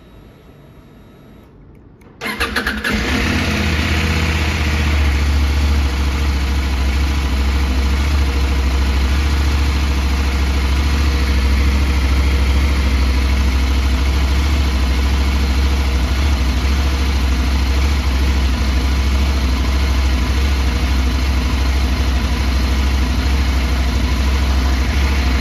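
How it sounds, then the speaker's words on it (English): A CFMOTO 800MT Explore Edition motorcycle fires up after a brief quiet moment, then settles into a steady, loud, close idle with a low throbbing rumble that continues unbroken for over twenty seconds. "So I'm just going to start the bike and show you me cycling through the different power modes."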